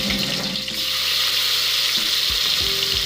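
Whole spices, green chillies and tomatoes frying in mustard oil for a mutton paya curry, a steady close sizzle with brief stirring scrapes toward the end, no talk.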